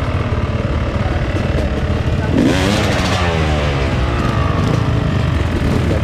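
Several off-road trail motorcycles idle and rev together at close range, a dense steady engine roar with a brief louder blip, voices faint beneath.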